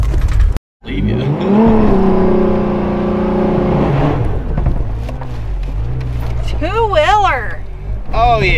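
A truck in two-wheel drive revs hard and strains to climb out near Lake Powell, its engine roaring loud and close with rising and falling pitch, while people talk over it.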